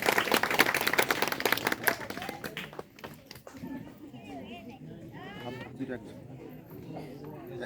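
Wedding guests clapping, a burst of mixed applause that is loud at first and then thins into scattered claps under chatter and voices of the crowd.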